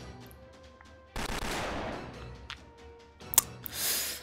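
A burst of gunfire sounds in a Fate/Grand Order cutscene, a sudden dense rattle followed by scattered shots and a sharp crack, moderately loud against quiet background.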